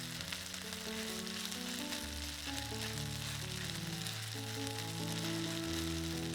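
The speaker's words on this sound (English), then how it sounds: "The rice grains are going to toast slightly in the oil, soaking up the sweet flavor of the peas" Rice grains and peas sizzle steadily as they toast in hot oil in a pan, a constant close crackle beneath soft background music.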